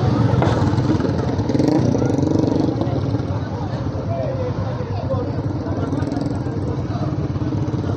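A motorcycle on Kennon Road near Baguio rumbles steadily past amid busy traffic noise and a general hubbub of voices, its engine drone continuous and fairly loud throughout.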